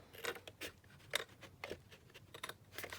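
Scissors snip through paper to make book page tags, a series of quiet, sharp, irregular close-up cuts with small rustles between them.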